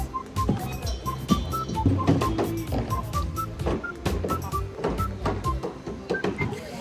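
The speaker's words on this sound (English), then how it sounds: "It is high-speed polishing machine." A high-speed bamboo toothpick polishing machine running, a loud busy mechanical clatter of tumbling sticks with rapid irregular knocks and a faint repeating beep over the drone, steady for several seconds with no talk.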